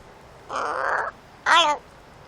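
A crow gives two loud, close caws. The first is longer and the second is shorter and harsher, with a brief pause between them and quiet before and after.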